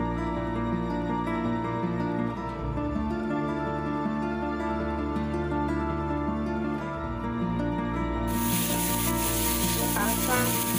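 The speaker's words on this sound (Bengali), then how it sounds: "ফোড়নে দেব কালো জিরে ফোড়ন দিলাম" Nigella seeds and turmeric powder sizzle in hot oil as a tempering for a fish and eggplant dish, a faint crackle under loud background music that swells into a bright, stronger hiss near the end.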